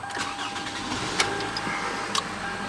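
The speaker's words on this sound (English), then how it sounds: "Go ahead and start her up." A 2011 Toyota Camry LE cranks briefly and settles into a steady mid-pitched idle, heard close up inside the car with a couple of faint clicks.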